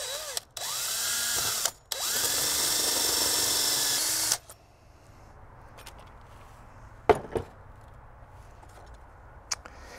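A power drill bores a 35 mm hole through a plastic tank cap in a toilet system, whining loudly in two sustained bursts with a short stop between. After that come quieter handling knocks and clicks.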